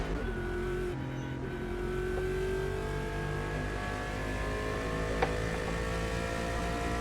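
NASCAR race car engine in Automobilista 2, a loud steady drone holding a constant pitch with a slight rise, one sharp click partway through, heard alone.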